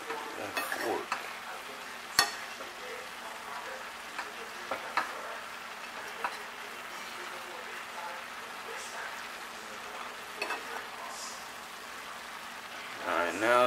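Food sizzles and hisses steadily in a pan as it cooks down with steam, with occasional clinks and scrapes of a fork stirring, a voice speaking faintly in the background.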